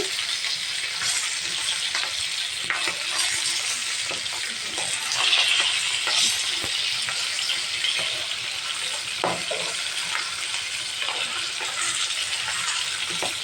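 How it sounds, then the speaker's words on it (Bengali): Chicken fries in a pan with a steady loud sizzle and is stirred now and then, giving scraping, clattering touches over the hiss that lasts throughout. "মুরগিটা দিয়ে ভেজে নিচ্ছি"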